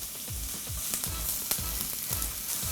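Onions sauté in a pan with a steady, close sizzle, and a stirring utensil scrapes the pan in a regular rhythm. No one talks.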